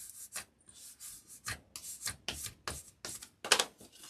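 Rough rubbing strokes of a hand smoothing paper down over foam board, about eight short scraping passes in an uneven rhythm, close and fairly loud.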